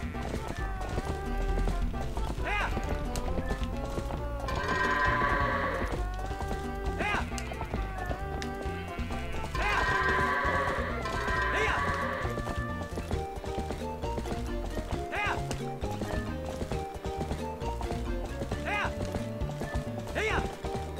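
A horse galloping in the video game The Legend of Zelda: Twilight Princess, rhythmic clip-clop hoofbeats running steadily throughout under game music, with occasional whinnies.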